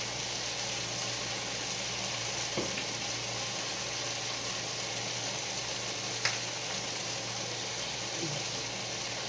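Ancho chili powder cooks in a pot of competition-style chili, giving a steady, close sizzle with soft background hiss and a couple of brief stirring clicks, no voices over it.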